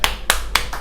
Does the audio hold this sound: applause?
yes